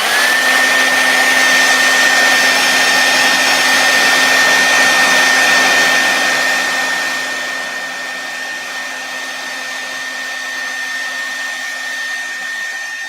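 A hair dryer blows steadily on wet paint, loud and close with a constant whine, then drops to a lower, slightly softer setting for the final stretch.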